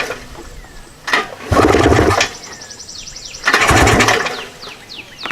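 A Polaris two-stroke engine being started with the choke on, two loud bursts of sputtering, revving engine noise about two seconds apart with quieter gaps between, birds chirping faintly in the background.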